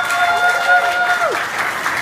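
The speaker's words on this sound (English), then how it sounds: "If you could all just give them a round of applause," Guests at a baby shower break into steady applause, a dense wash of clapping from a gathered crowd with a tonal whistle or squeal sliding over it.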